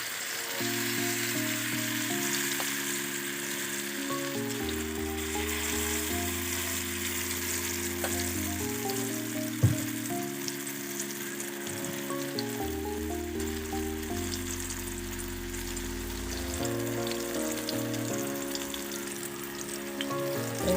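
Shewali flower fritters in gram or lentil batter fry in hot oil with a steady, even sizzle. A single sharp click comes midway, and soft tonal music plays underneath throughout.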